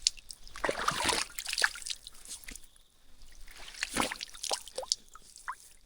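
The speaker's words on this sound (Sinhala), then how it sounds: "වතුර පාවිච්චි කරන්න පුළුවන් මට්ටමේ දොළ පාර." Mountain stream water trickling and splashing over rocks on the trail from Sri Pada to Sandagalathenna in Sri Lanka, a close, continuous watery patter with brief louder splashes.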